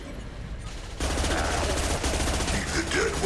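Rapid automatic gunfire from a sci-fi shooter game's combat, Mass Effect 2, bursts in loudly after a quieter second and keeps rattling continuously to the end.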